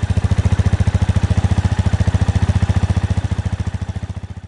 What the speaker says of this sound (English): Police motorbike.